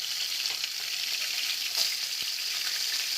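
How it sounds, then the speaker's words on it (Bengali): Rohu fish pieces frying in hot mustard oil in a pan, a steady, close, loud sizzle with crackling spatters throughout and no talking. "এবার আমরা একটা একটা করে মাছ দিয়ে দেবো"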